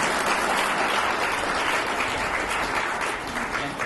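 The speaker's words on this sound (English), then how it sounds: "would you please give a warm round of applause" Audience members at an automotive industry conference applaud the speakers in a full, even wash of clapping that stays loud and steady throughout, tapering only slightly at the end.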